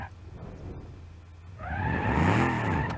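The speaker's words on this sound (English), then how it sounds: "As long as it still has that motor noise, because that's the only reason why I have this car." The engine of a muscle car in the BeamNG.drive driving game drones at a low idle and then rises into a loud, climbing rev with a squealing edge that holds to the end.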